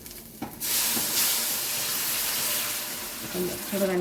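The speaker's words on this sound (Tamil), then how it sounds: "சுடுதண்ணி ஊற்ற போகிறேன். நான் வச்சிருந்த சுடுதண்ணி" After a brief pause, a loud sustained hiss and sizzle erupts as hot water hits a hot pan of spicy crab curry masala, steaming steadily with a few clinks.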